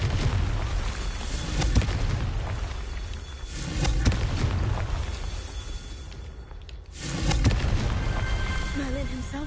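Confringo fire-spell blasts in the Hogwarts Legacy video game, dense booming bursts that swell and fade in several loud waves over a constant background of game noise, with a brief lull before the final surge.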